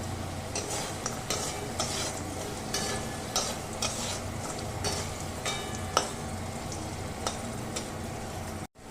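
Lentil dumplings (bori) frying in an oiled pan while a puti fish curry is cooked. A steady close-up sizzle runs throughout, with frequent light clicks and scrapes of stirring, no talk.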